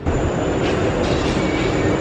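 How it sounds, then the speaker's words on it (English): A train pulls into a station on the way to Disneyland Paris, a steady, loud rumble and rolling hiss of the carriages running close by for a couple of seconds. "Here's our train."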